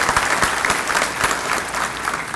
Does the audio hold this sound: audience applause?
yes